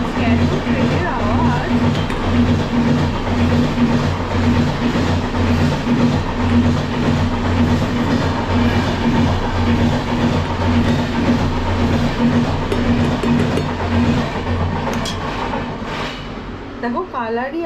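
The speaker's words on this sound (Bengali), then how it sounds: "এত ট্রেনের আওয়াজ।" A train rumbles loudly and continuously on the tracks with a dense rolling roar and rattling, easing slightly near the end, with a voice faintly audible in the background.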